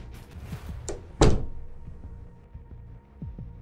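A door thuds shut in a single sharp, loud knock, with a few faint softer knocks and rustles before and after in an otherwise quiet room.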